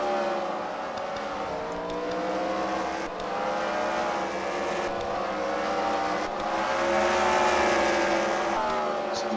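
Several race cars roar steadily through a first-round heat at CWRL Fight Night at the Freedom Factory, with engines droning and swelling in a loud, unbroken pack sound for the whole stretch.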